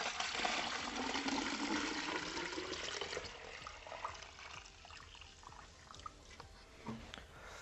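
Water pours into a desktop jellyfish aquarium, a steady broadband splashing and trickling that is loudest at first and gradually softens over several seconds, with no talking.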